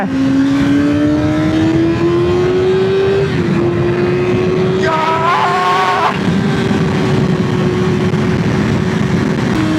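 A Kawasaki ZX6R sport motorcycle's engine howls loudly and continuously while riding, its pitch climbing slowly and holding steady with a brief shift midway, backed by constant wind rush.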